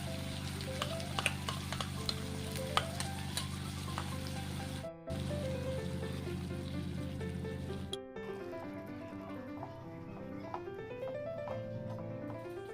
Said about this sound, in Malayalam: നമുക്കിനി അരപ്പ് ഒഴിച്ചു കൊടുക്കാം.